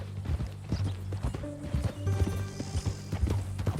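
Horse hooves clip-clop in Red Dead Redemption 2, a steady run of close hoofbeats over a low game rumble, with a faint whinny-like tone partway through.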